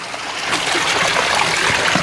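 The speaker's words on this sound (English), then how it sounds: "That's a little bit too much water." Water pours into a fish tank in a steady, splashing gush, close and fairly loud throughout.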